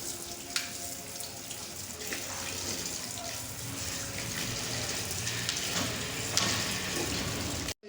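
Tap water running steadily into a sink while unpeeled turmeric roots are rinsed underneath, with small clatters and splashes, close and fairly quiet.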